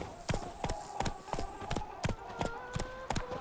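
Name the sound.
horse Roach trotting, from video game The Witcher 3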